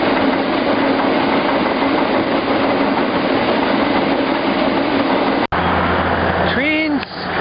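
A Union Pacific freight train rumbles past at a rail yard, a steady loud broadband roar for several seconds before the sound abruptly cuts, followed by a short stretch of quieter rail noise with squealing tones.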